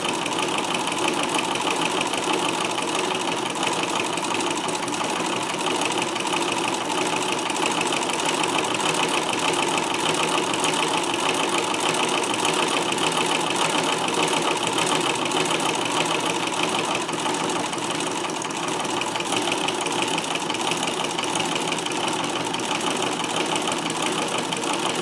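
A Davis vertical feed sewing machine runs continuously while pin tucking fabric, giving a steady, even mechanical hum and rapid stitching chatter that stays close and constant throughout, with no talking.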